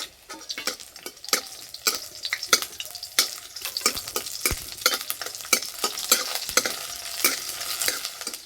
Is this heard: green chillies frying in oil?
yes